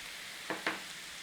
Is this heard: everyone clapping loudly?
no